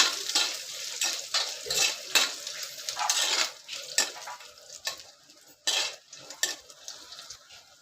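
Cashews roasting in a pan sizzle while a spoon scrapes and stirs them in repeated bursts, with clinks of metal against the pan and short pauses between strokes, close and clear with no talking.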